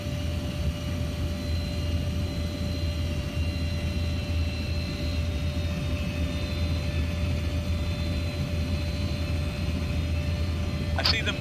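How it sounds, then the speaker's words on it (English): A Cessna light aircraft taking off, its engine a steady distant drone that holds evenly throughout under a constant low rumble, with a short sharp click near the end. "Oh, it's a Cessna taking off, yeah."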